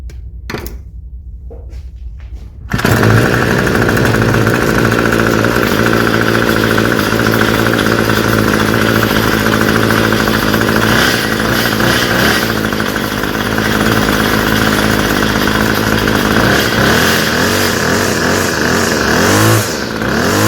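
A Bolens 25cc small two-stroke engine runs steadily at idle after starting, a loud continuous buzzing drone close by that holds for most of the stretch.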